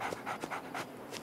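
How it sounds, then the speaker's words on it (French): A dog in the survival game Open Country barks and pants in quick repeated bursts, about four short yaps mixed with breathy huffs, fairly close and alone with no talk. "Mais arrête d'aboyer, toutou"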